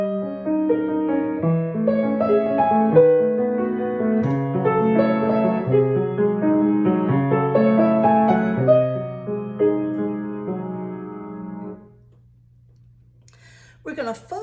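Solo piano plays measures 19 through 23 of the First Arabesque, a flowing, steady stream of notes lasting about twelve seconds. The playing then stops, leaving a faint low hum and one brief soft noise at the end.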